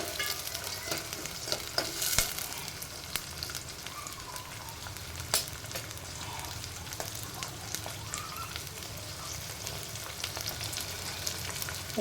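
Onions frying in oil in a pan, a continuous close sizzle with scattered sharp crackles and occasional stirring knocks, no voices over it.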